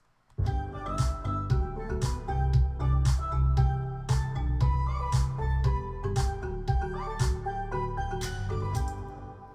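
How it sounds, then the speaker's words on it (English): A producer's electronic house drop kicks in after a brief silence: a steady four-on-the-floor kick with heavy bass low end and crisp house hi-hats, with layered synth chords playing loud and continuous throughout. "And all together the drop sounds like this"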